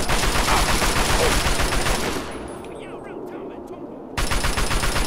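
Automatic gunfire in the Fallout 3 video game crackles densely for about two seconds, drops to quieter game ambience, then returns loud near the end, with a voice mixed in.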